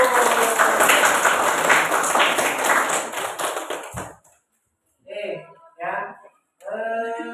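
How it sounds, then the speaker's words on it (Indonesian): Classroom applause for a winning student discussion group, dense clapping for about four seconds that stops abruptly, followed by short bursts of speech. "Tepuk tangan untuk kelompok 1."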